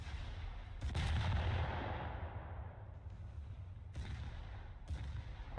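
Naval guns fire in the War Thunder video game as US Navy ships engage, with a heavy booming shot followed by a long rumbling decay and then two more sharp distant blasts, all fairly muted.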